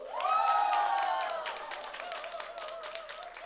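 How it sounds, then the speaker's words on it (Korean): A family church congregation at a Sunday service bursts into cheering and applause, loud voices rising first, then settling into steady, fairly close clapping that carries on under lingering crowd chatter. "박수."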